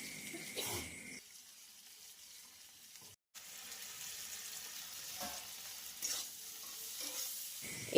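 Pointed gourd and jackfruit seeds frying with turmeric in a pan, giving a soft steady sizzle with intermittent stirring scrapes and a brief pause partway through, and no talk.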